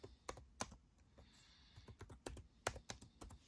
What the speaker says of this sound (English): And then type up Xbox Cloud Gaming.